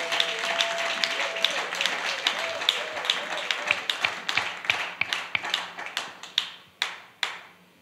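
A church congregation claps, starting as dense applause and thinning into scattered rhythmic claps that fade out one by one, with faint voices underneath.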